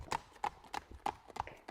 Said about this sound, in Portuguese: Volta a galopar.